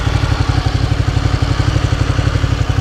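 Ducati Panigale motorcycle with about 18,000 miles idles close by, a loud, steady, lumpy low-pitched throb with rapid even pulses and mechanical clatter.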